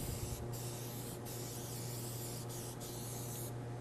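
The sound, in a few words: cooking spray sprayed on a square meatloaf pan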